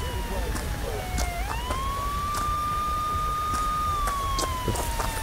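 A wailing ambulance siren in the video game Chernobyl Liquidators Simulator holds a steady rising tone, heard loud and close with a constant background hum.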